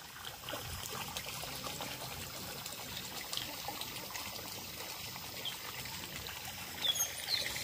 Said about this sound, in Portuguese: Uma bica d'água.